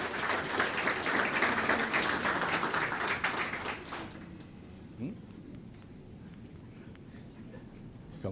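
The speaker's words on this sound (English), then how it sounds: "one nice round of applause for all of them for all they do in the schools" School-awards audience applauding principals of the year, a dense burst of clapping for about four seconds that fades out, leaving quiet room noise with a faint thud.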